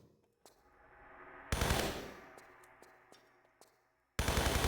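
MP5 submachine gun fire in Tomb Raider Remastered III: two loud, close bursts with dense crackling reports, separated by a fading tail with a few sharp clicks and small impacts.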